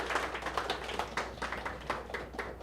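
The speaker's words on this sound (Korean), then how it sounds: "모두 환영의 박수로 맞아주시기 바랍니다" A small church congregation gives a round of welcoming applause, a light, uneven patter of hand claps at close range with no talking over it.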